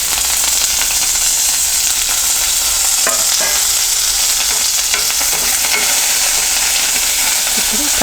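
Curry leaves and dried red chilies fry in hot oil for a banana and tomato curry, giving a loud, dense, steady sizzle close by with faint stirring scrapes and no talk.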